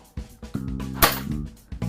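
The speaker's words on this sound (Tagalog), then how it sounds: "Pangatlong putok." A C2A airsoft gun fires a single sharp, close shot. A few faint clicks and handling noises come before and after it, and nobody speaks.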